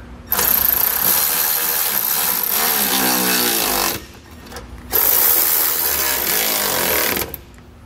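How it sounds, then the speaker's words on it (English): A power tool with a 13mm socket tightens bracket bolts for nerf bars on a 2020 Chevrolet, two loud whirring bursts of several seconds each separated by a short pause. "you can grab a 13mm socket and we can tighten up all those bolts holding them in"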